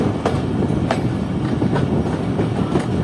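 Pakistan Railways' Jaffer Express rolling steadily along the rails, a continuous close rumble broken by repeated clickety-clack wheel beats over rail joints.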